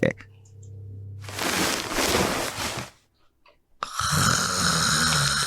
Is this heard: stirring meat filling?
no